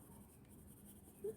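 Colour pencil making short textural strokes on paper, a soft steady scratching that stays faint and close throughout, with no speech.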